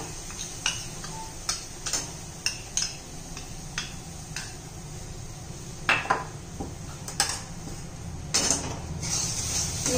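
Milk powder and cream being stirred in a pan of ghee for rava barfi, with repeated metallic ticks and scrapes of a spoon against the pan over a steady low cooking hum, close and moderately loud.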